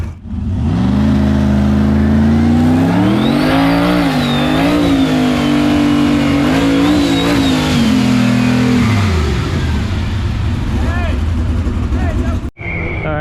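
Drag car at a street car shootout at Bradenton Motorsports Park, its engine held on the two-step launch limiter, a loud rising and falling revving drone that holds, then fades and cuts off near the end, with people talking underneath.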